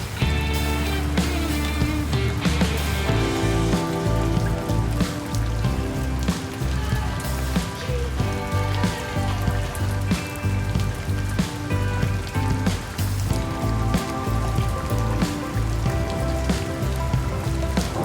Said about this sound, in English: Cold, rainy, sopping wet everywhere.